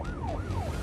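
Ambulance siren on a code red emergency call in Dudley, a wailing tone sweeping up and down in quick repeated cycles over low road noise, fairly close and steady.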